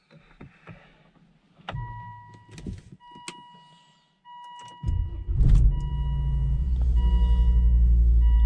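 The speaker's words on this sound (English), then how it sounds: "So obviously when I start my engine" A Volvo 2.4 non-turbo engine cranking and catching, with clicks and a short whir before the starter spins and the engine settles into a loud, steady idle close by.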